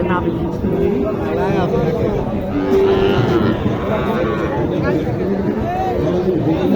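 A Sahiwal bull lows at a busy cattle market, its deep moos rising over constant crowd chatter and nearby talking voices.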